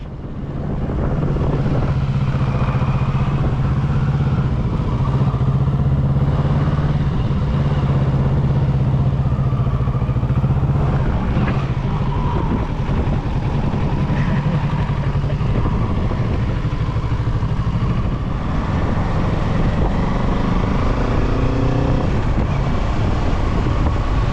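A motorcycle riding through traffic: a loud, steady engine drone with a rumbling low hum and wind noise carries on without a break for over twenty seconds, and no one talks.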